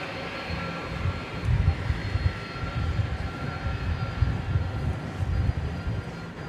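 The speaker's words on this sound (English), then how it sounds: "But here is American Flight 70 going to Frankfurt. Once again, 777-200 ER." American Airlines Boeing 777-200ER jet bound for Frankfurt at Dallas-Fort Worth airport, giving a broad rumbling engine roar that swells and churns steadily at moderate distance.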